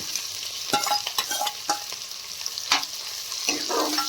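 Two onions fry in a pan, sizzling loudly up close while a utensil scrapes and stirs them in irregular strokes.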